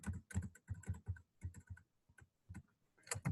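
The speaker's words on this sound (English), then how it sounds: "And we're going to type in here," Rapid typing on a computer keyboard while working in Canva, with bursts of close, crisp key clicks separated by brief pauses.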